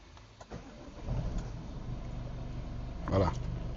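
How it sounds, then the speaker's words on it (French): A car engine starts and settles into a steady idle, with the air conditioning and fan switched on; a brief louder burst rises near the end over a constant low hum. "Et on allume la voiture, on met le gaz."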